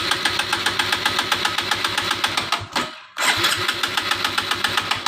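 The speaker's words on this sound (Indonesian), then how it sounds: "Di sini akan kita coba starter hidupkan mesin, apakah kondisi ini mesin akan hidup." A 2018 Suprax 125 motorcycle with a fault that makes it stall after a few kilometres is turned over with its electric starter, giving a fast, even chugging rhythm that stops briefly, then resumes close and loud.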